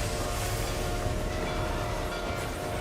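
The phantom train in Final Fantasy XIV gives off a steady, loud rumble with a rolling rail roar that holds at an even level throughout, and no voices are heard.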